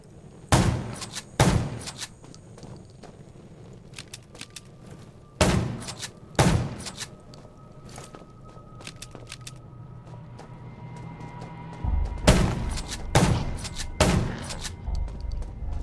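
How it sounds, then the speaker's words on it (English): Sharp gunshots ring out in the zombie video game Undawn, spaced in pairs of loud cracks separated by quieter stretches of ambient game sound. "Gunshots, well, that's a junkyard."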